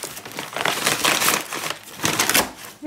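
Plastic packaging crinkles and tears as a Tsuchiya randoseru backpack is unboxed, a close, continuous rustle with bursts of louder ripping and crumpling throughout.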